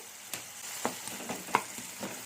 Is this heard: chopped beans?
yes